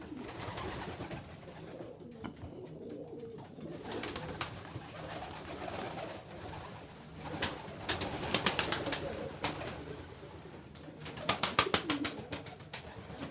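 Pigeons coo in a temple aviary, soft throaty calls that rise and fall in rolling bursts, with occasional wing flutters and rustles nearby.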